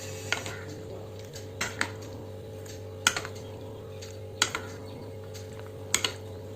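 Fruit salad is stirred in a bowl, giving a handful of sharp, irregular clicks and knocks, some in quick pairs, over a faint steady hum.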